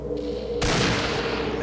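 A rifle fires in the Fallout video game: after a low steady hum, a sudden loud burst of gunfire breaks in and rolls on as a dense, noisy crackle.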